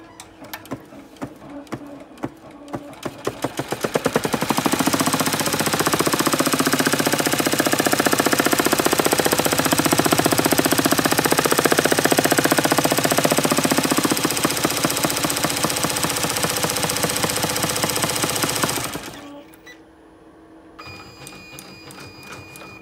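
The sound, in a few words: embroidery machine stitching an outline on tearaway stabilizer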